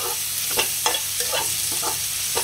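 Garam masala powder and a little sugar being sautéed in a hot pan for Indian pepper chicken: a steady, close sizzle with a few soft scraping stirs at irregular intervals.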